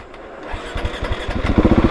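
A Husqvarna 701 Enduro single-cylinder motorcycle engine pulls away after the clutch is released, its close, loud exhaust building into rapid rhythmic thumping pulses.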